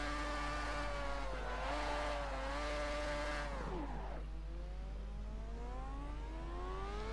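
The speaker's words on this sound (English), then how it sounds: "Let's overheat a set of soft tires." Simulated race car in Assetto Corsa pushing soft tires until they overheat, a loud sustained engine tone with steady harmonics that rise and fall with revs, dropping sharply then climbing again as the car accelerates, no talk.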